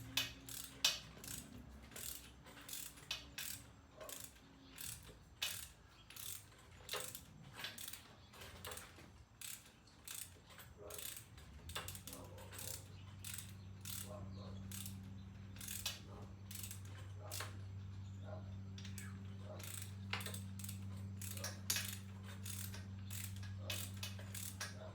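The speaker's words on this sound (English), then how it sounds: "we can finish getting out this center bolt, which for some reason is being obstinate" A hand ratchet clicks steadily up close while removing a stubborn rocker shaft center bolt on a 1967 Triumph TR6 engine, with rapid repeated pawl clicks and a faint mechanical hum underneath.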